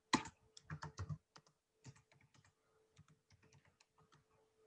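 Quiet typing on a computer keyboard while a quiz is being built in Microsoft Forms, with bursts of quick key clicks at first that thin out into sparse, soft taps.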